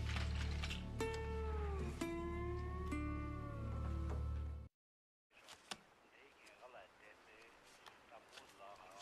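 A cat meows several times in a row, close and loud with rising and falling calls, then after a short silence quieter rustling and movement follow.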